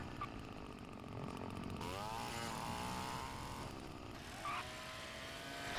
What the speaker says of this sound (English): Why would they use a chainsaw sound for a buggy?